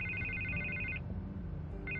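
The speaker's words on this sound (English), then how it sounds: "I can't get the phone to stop ringing." A phone rings in the Batman Telltale Series video game, with a bright electronic ring burst, a short pause, then another ring starting, over a low ambient hum.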